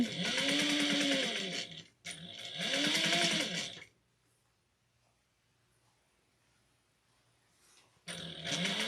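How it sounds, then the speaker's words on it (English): A sewing machine runs in two quick bursts of fast, steady stitching across the bottom of a fabric piece with a half-inch seam, then stops for a few quiet seconds before starting again. "we're going to sew across the bottom using a 1/2 inch as well"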